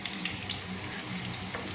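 Garlic frying in oil in a pan for schezwan noodles, a steady soft sizzle with faint crackles running quietly throughout, no voices.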